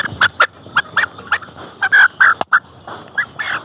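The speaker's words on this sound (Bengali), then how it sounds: "দেখি মুরগিগুলোর সাইজ দেখাও" Layer hens about 70 to 75 days old on a poultry farm cluck and squawk in quick overlapping bursts, close and loud, with one sharp knock partway through.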